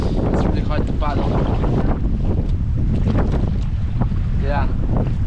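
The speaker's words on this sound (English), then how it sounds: "The wind goes against our direction, so it's really hard to paddle." Strong headwind batters the microphone while a canoe is paddled across a backcountry lake in Algonquin Park. The roar is loud and continuous and covers the whole stretch, with voices faintly heard underneath.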